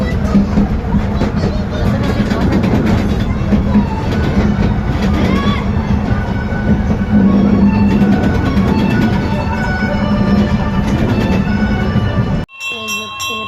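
A small park ride train at Happy Valley amusement park starts up and runs, giving a steady rolling rumble with faint rail clatter under loud crowd babble and nearby voices, cutting off abruptly near the end.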